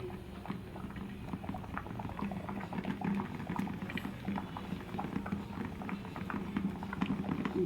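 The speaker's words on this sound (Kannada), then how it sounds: "ನೋಡಿ ಹೆಂಗೆ ಇದಾಗ್ತಾಯಿದೆ ಬಾಯ್ಲ್ ಒಳಗಡೆ." Homemade soap mixture with ground flaxseeds boils on a stove, a continuous close bubbling with thick popping and gurgling and no speech.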